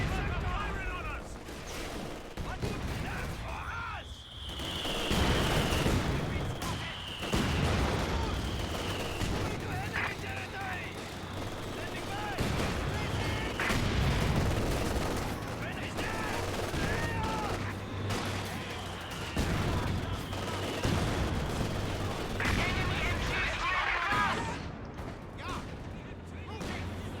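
Battle in Company of Heroes 2 with dense gunfire and heavy artillery blasts hammering the HQ, bursts of machine-gun rattle and booming impacts repeating throughout, with game voices calling out over the din.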